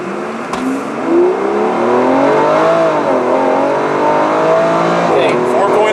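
A 2016 Aston Martin Rapide S with a V12 engine accelerating hard from 0 to 60 with adults aboard, a loud rising engine roar climbing through gear changes, heard from inside the car.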